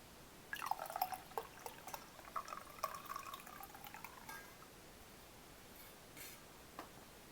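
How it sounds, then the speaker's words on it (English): Coffee poured from a coffee pot into a mug, a quiet close trickle with small drips and glassy clinks that fades to near silence. "I'm going to pour some coffee into the mug and see what it sounds like"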